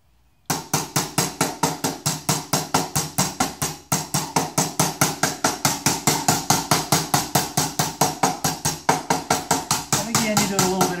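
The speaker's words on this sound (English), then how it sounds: "And then we're going to work on this leading edge radius with this little brass hammer." A small brass hammer strikes an aluminium fin rib, forming its leading edge radius in a steady run of sharp metallic taps, close and loud, roughly three to four blows per second for the whole stretch.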